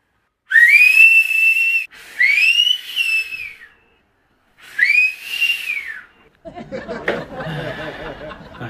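A person whistles three long, clear notes that swoop up and then fall, with short pauses between them, followed by a breathy snicker and hissing noise.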